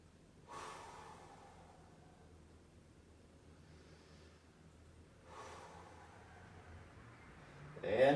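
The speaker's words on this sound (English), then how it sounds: "let's take 3 more breaths" Two slow, deep breaths during yoga sun salutations, faint and airy, a few seconds apart, with a soft rustle near the end.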